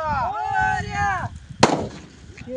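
A sutli bomb firecracker bursts once with a sharp, loud bang at a Ganpati visarjan, preceded by a high wavering whistle-like tone and low crowd murmur, with a brief decaying tail after the blast.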